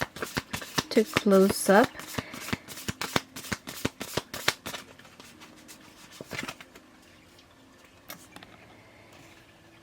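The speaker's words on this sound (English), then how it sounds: "Let me get you an affirmation card" Cards riffle and shuffle from an affirmation deck in a close, rapid patter for several seconds, followed by a few softer card flicks, with a voice speaking briefly over the shuffling.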